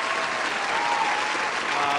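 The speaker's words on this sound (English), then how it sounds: "Give you guys a round of applause" Steady, full applause from a crowd, many hands clapping continuously at an even level throughout.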